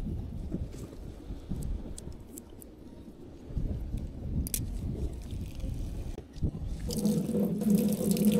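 Running water rinses salt off a fishing reel outdoors on an island trip, a close, splashy gush that shifts in intensity and swells louder toward the end, with no talking.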